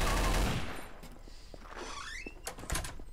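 Gunfire in the video game Trouble in Terrorist Town, a burst of loud, close shots at the start followed by scattered sharp reports and mechanical clatter, with a brief voice in between.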